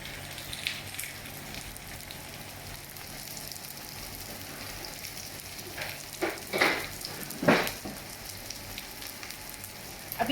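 Chicken burger patties fry in hot oil in a pan over medium heat, giving a steady low crackling sizzle throughout with a few louder spitting pops toward the end.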